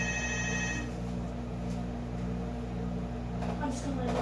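A telephone rings inside a room, a steady electronic ringing tone over constant background hum, with no talk heard.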